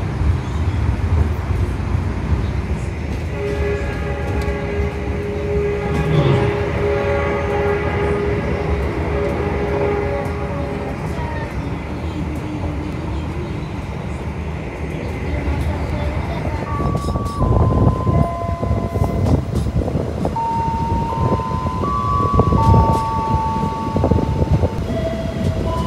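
An Argo Lawu passenger train rushes along at speed with a loud continuous rumble and wind roar, while locomotive 935 sounds long sustained horn blasts, first early on and again in the latter half.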